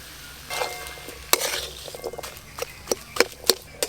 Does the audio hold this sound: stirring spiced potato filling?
yes